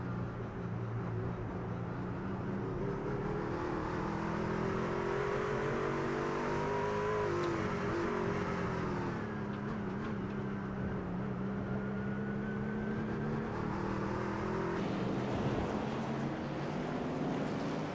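A truck engine in the iRacing truck series at Circuit of the Americas, the smoking 66 Tide Downey machine struggling to build RPM, drones steadily with a strained, rough tone that never climbs into a clean rev, continuous for the whole stretch.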